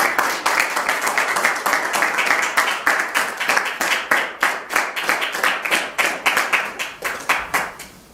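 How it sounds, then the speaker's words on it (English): Steady applause from an audience at a school assembly, dense clapping sustained throughout and slowly thinning toward the end, with no one speaking over it. "maybe one more round of applause for all concerned"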